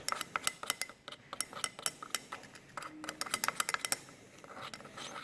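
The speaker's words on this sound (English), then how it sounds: "Just keep stirring, keep stirring," Copper oxide stirred into sulfuric acid in a glass beaker, giving a quick, irregular run of light clinks and taps from the stirrer against the glass, close and fairly crisp, with no talking.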